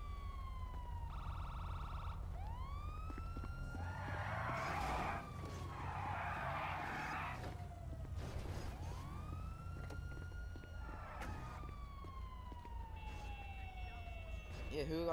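Police car siren wailing in rising and falling sweeps at a moderate distance, layered over a steady low engine rumble and bursts of tire-skid noise, with a faint voice now and then.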